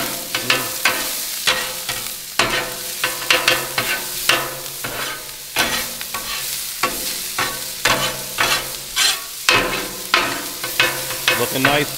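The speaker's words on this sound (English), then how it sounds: "A little more of that canola oil right in there on the peppers." Peppers frying in canola oil on a Blackstone griddle, with steady loud sizzling broken by repeated sharp scraping and stirring strokes of a spatula throughout, and no talking.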